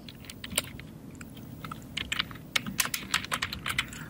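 Fingers type on a computer keyboard while someone makes a logo in Photoshop, with sparse clicks at first and then a quicker, denser burst of close, crisp keystrokes.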